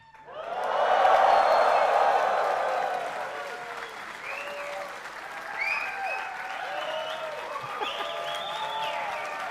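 Applause from a live studio audience of roughly 750 people swells quickly and holds steady, dense and loud, then tapers slightly while voices and whoops rise over the clapping.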